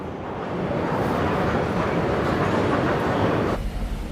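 A metro train in Chongqing, China rumbles steadily along the tracks with a continuous roar and faint rhythmic clatter, heard from inside, the noise dropping away near the end.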